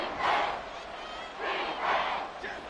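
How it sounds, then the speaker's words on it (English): Stadium crowd in the Madden 24 football game at the Saints' home field, surging cheers and shouts rising and falling in waves at moderate distance. "This crowd turning up the decibel level"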